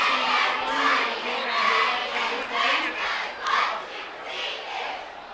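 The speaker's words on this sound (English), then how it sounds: "A little bit of encouragement from the crowd." A crowd at a high school football game between Timberline and Shelton roars and cheers steadily, with rising and falling surges of shouting from many voices filling the stands throughout, no single speaker standing out.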